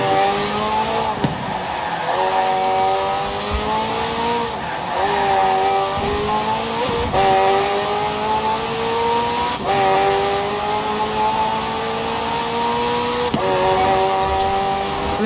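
A McLaren hybrid twin-turbo V8 racing car in Forza Horizon 4 drives hard throughout, its engine note rising and falling through gear changes, with tire squeal in places and a steady loud roar.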